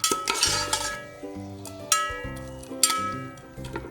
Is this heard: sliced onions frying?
yes